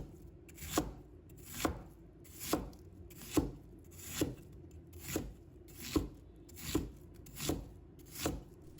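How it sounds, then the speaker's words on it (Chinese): A knife chops half an onion into small pieces on a cutting board, about ten crisp, evenly spaced strokes, close and clear, with no talking. "再准备半个洋葱，把它切成小块"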